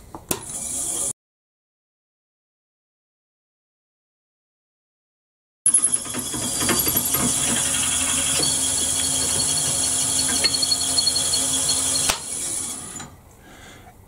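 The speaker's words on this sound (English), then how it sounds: "So we'll now carry on and drill that." Steady mechanical whirring and grinding from a lathe drilling solid brass for a pen, with high-pitched metallic whine, continuous for several seconds after a silent gap, then winding down.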